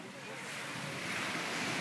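Ocean waves wash onto a beach at Cancun in a steady, broad roar with wind buffeting the microphone, swelling slightly louder over the short stretch.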